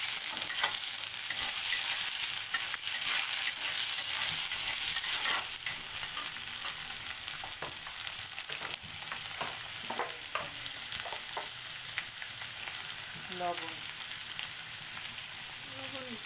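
Bathua greens with potatoes and garlic paste fry in a pan, giving a loud, steady sizzle with scraping stir strokes over it, easing slightly later on.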